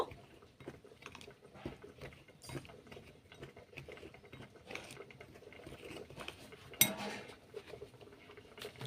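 Dry ingredients, including chili powder and a little sugar, stirred together with a spoon, giving faint, close scraping and light tapping against the bowl with one sharper clink; quiet throughout, no talk.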